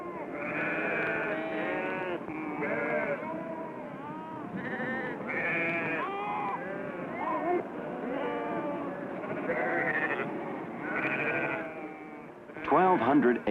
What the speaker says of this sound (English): there are bound to be sheep